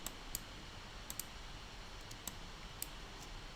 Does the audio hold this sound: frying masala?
no